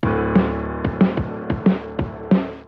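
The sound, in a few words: bit-crushed lo-fi drum loop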